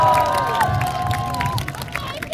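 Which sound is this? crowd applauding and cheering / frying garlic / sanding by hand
crowd applauding and cheering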